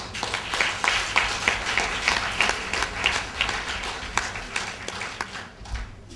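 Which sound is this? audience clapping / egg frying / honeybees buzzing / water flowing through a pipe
audience clapping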